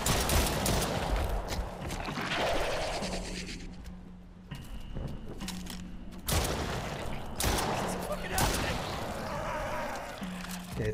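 Gunfire in the horror shooter Stray Souls comes in bursts of sharp shots and mechanical clatter, separated by brief quieter stretches, with a voice talking over parts of it.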